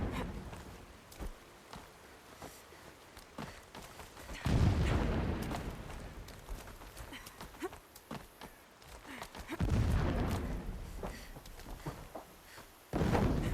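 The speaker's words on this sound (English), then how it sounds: "Explosions in the distance." Distant explosions in the video game Horizon Zero Dawn Remastered, two deep booming blasts rolling out over a quiet ambient bed, with a sharp thud at the end.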